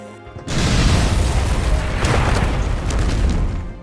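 A sudden loud explosion bursts in after a brief quiet moment, followed by a sustained roaring rumble with crackling debris that stays loud to the end.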